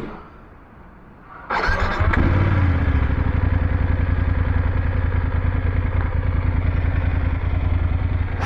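A 2023 BMW F850GS Trophy motorcycle engine catches after a short quiet stretch, then settles into a steady, loud, close idle with a throbbing low rumble and light mechanical clatter, with no talking.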